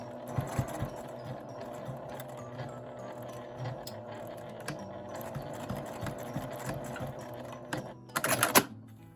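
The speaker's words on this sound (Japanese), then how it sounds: "厚みがあるので真ん中より少し上ぐらいから針を落として返し縫いで縫います" Sewing machine back-stitching through thick folded fabric while making an A4 sacoche shoulder bag; a steady mechanical stitching chatter runs throughout, with a louder burst of rapid stitches near the end.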